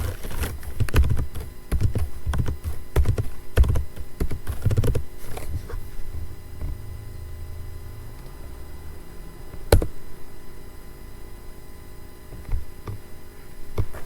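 Rapid computer-keyboard typing as an IP address is entered during a Cisco network setup, a burst of close clicking keystrokes over a steady low hum that then thins out to a few isolated taps.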